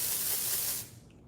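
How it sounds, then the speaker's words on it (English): A single sustained burst of hair spray hisses from a can aimed at a section of hair at the crown, close and steady before cutting off. "This one has a little bit softer of a spray."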